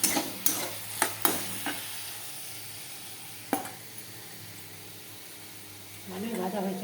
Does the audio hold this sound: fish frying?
yes